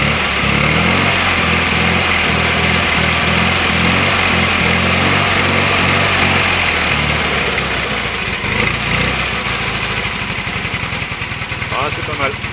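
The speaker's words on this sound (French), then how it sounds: "Starter coupé, le moteur est bien chaud." A warmed-up Fiat 500 engine with the choke off idles steadily, a loud, close, even chugging with a rapid regular beat that carries on throughout without pause.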